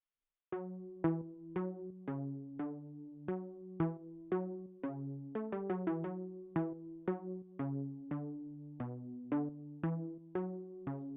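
Dry two-layer Omnisphere pluck arpeggio with no effects, sounding as a steady run of short plucked synth notes that decay quickly, moderately loud and alone.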